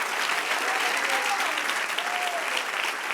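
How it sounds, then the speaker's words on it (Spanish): A church congregation breaks into steady, dense applause filling the whole stretch, with faint voices calling out beneath the clapping. "Dale otro aplauso al que vive."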